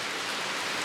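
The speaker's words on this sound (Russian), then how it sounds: "Идет ливень, но на окна ничего не попадает." Heavy subtropical rain pours down in a steady, dense hiss, close and continuous with no individual drops standing out and no voices.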